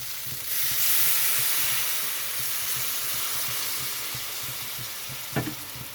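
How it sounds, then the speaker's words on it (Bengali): Hot water is poured into a pan of spiced fried tangra fish, setting off a loud, close rush of hiss and sizzle that swells early and slowly eases, with a sharp clink near the end. "কষানো হয়ে গেছে, তো এখানে আমি দিয়ে দেবো গরম জল।"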